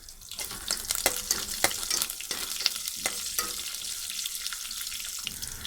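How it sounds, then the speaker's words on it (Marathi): Cumin and mustard seeds sizzle and crackle in hot oil over a low gas flame, a close, continuous frying hiss broken by sharp popping ticks, with no talk. "जिरं, राई, गॅस स्लोवर ठेवला आहे."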